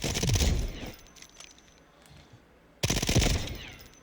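MP7 A2 submachine gun firing in the shooter game Delta Force, two loud, very rapid full-auto bursts close up, separated by a quieter gap of about two seconds.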